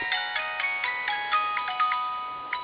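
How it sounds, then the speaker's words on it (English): A mobile phone ringtone plays a bright, repeating electronic melody of short tonal notes, clear and steady for a few seconds with no voices over it. "That's my phone."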